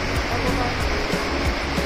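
A waterfall on a mountain hiking trail in Japan gives a loud, continuous roar of rushing water that fills the short stretch without a break.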